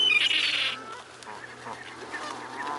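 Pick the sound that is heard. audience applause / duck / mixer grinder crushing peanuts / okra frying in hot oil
duck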